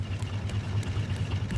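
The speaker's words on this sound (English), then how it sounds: "Let's turn off our engines quickly to save on fuel." Boat engines idle steadily in the game Raft, a continuous low hum with a faint rhythmic throb that stays close and even throughout, with no voices.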